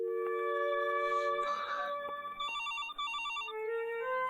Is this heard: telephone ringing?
yes